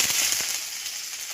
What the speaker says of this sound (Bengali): এবার আমি ফোড়নে দেবো রসুন